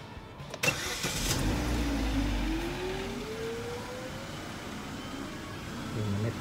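A Chevrolet car engine is started in a workshop after a manual transmission oil, engine oil and filter service, with a sharp cranking catch followed by a steady, fairly quiet idle that rises slightly near the end.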